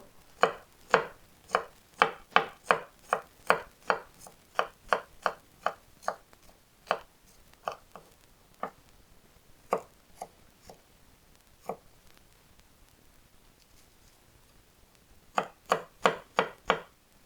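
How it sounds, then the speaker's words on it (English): A knife slices garlic on a cutting board for a Persian vegan eggplant dish, with crisp close chops in quick runs, a few sparse strokes, a long quiet gap, then another fast burst. "we slice or smash our garlic also."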